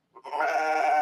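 A single short, nasal sheep bleat, quavering and close, made by a person's voice imitating the animal.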